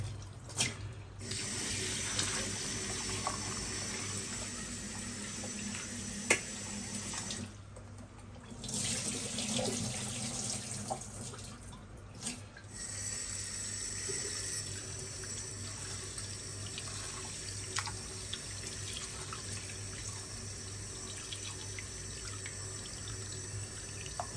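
Hot water runs steadily from a kitchen tap into a sink for over twenty seconds, a continuous close splashing hiss with brief breaks in flow, while a creole dish of herring rougail is being prepared.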